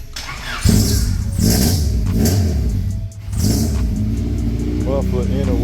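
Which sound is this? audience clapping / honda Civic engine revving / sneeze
honda Civic engine revving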